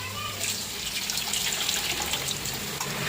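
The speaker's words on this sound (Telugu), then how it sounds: "మళ్ళీ కొన్ని వాటర్ అయితే వేసుకొని" Steady running water pours continuously onto soaking tamarind with a soft rushing hiss, close by and moderately loud, with no talking.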